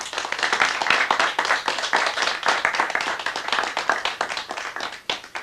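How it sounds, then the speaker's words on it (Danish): An audience at a 1985 Odense local television show claps steadily for several seconds, a dense, lively round of applause with no voices over it. "Skal vi give dem en hånd på vejen op?"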